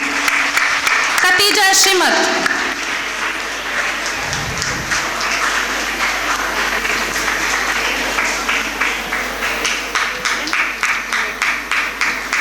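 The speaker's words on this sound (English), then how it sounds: "please join me in giving a warm and enthusiastic round of applause to the graduates of Commerce" Audience applause at a women's college graduation ceremony for Commerce graduates, steady crowd clapping throughout, with a name announced over it near the start and the clapping thinning into distinct claps toward the end.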